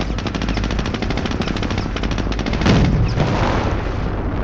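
Dense machine-gun fire with scattered gunshots and blasts rattles continuously from a Company of Heroes battle, a louder burst erupting near the end over steady combat din.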